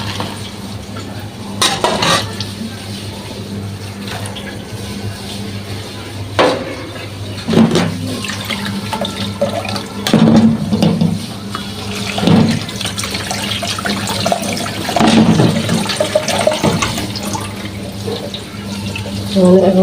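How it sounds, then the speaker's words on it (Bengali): Boiled noodles are drained in a home kitchen, with water pouring and splashing steadily into a sink for about twenty seconds, broken by clattering knocks of a pot or strainer. "এখন আমি পানি ছেঁকে নেবো।"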